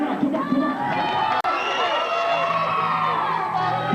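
Loud crowd at a church gathering cheering and whooping, children shouting among them, sustained for several seconds with one brief cut, voices mixed in.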